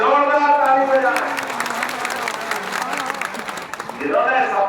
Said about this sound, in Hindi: हमारी पूर्व मुख्यमंत्री साध्वी उमा भारती के लिए भी जोरदार ताली बजाएं